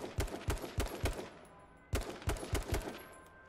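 Rapid gunfire from the H1Z1: King of the Kill video game, loud and close, in two clusters of four or five sharp shots separated by a brief pause.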